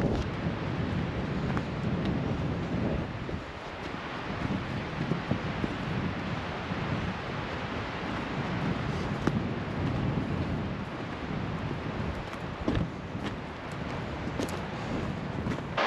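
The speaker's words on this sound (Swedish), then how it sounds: "Ja, vinden kommer ju därifrån så det ska nog bli bra i rast." Steady wind rushing and buffeting outdoors at Komosse, Sweden, a low rumbling blustery noise with occasional gusts and no talk.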